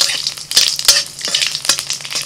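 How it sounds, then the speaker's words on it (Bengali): Whole cumin with cardamom, cinnamon, cloves and bay leaf frying in a little mustard oil in a wok, a close, busy crackle and spatter with stirring scrapes throughout and no talking. "কড়াইতে অল্প করে সরষের তেল দিয়ে ওর মধ্যে ফোড়নে এলাচ, দারচিনি, লবঙ্গ, তেজপাতা দিয়ে দিলাম"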